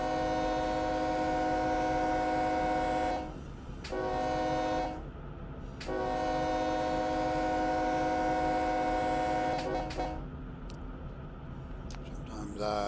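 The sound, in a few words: train horn sounded by locomotive at whistle post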